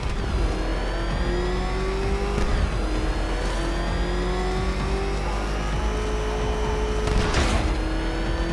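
The Batmobile in the video game Batman Arkham Knight drives at speed, its engine droning and revving in shifting tones with a swooshing pass near the end, no talk over it.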